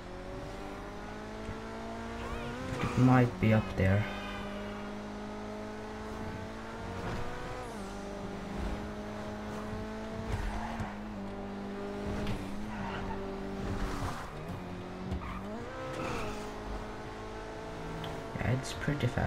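A C8 Corvette sports car in GTA driving fast, with a steady engine drone that rises and falls through gear changes and occasional tire squeals, while a person talks over it throughout.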